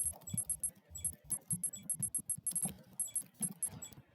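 Rapid, uneven clicking of keys being typed, quiet and close, in short bursts with brief pauses.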